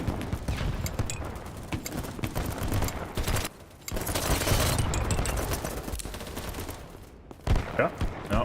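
Rapid bursts of video game gunfire crackle in uneven volleys, with short pauses between strings of shots, loud and close throughout.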